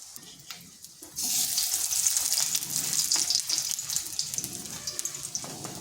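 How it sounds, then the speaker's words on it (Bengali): Potato snacks fry in a pan of oil over medium-low heat. After a quiet second, a steady, bright sizzling hiss rises and continues close and even, with small crackles and no talk. "তো এইভাবে আমি সবগুলো ভেজে নিচ্ছি"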